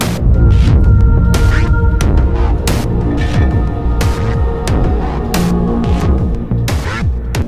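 Layered cinematic sound design from the Mysteria instrument with Starlight added forms a thick rumbling drone, punctuated by sharp bright impacts at irregular intervals, loud and steady throughout without speech.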